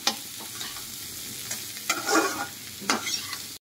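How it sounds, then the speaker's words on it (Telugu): Zucchini curry vegetables are stirred in a frying pan, giving a steady sizzle broken by several scraping stir strokes, close and moderately loud, with no talking. "ఎమ్మటనే వెజిటబుల్స్ యాడ్ చేసేయాలి. ఒకసారి మిక్స్ చేసుకుందాం."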